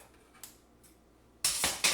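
A couple of quiet snips, then two louder, sharp scissor cuts crunching through plastic food packaging near the end.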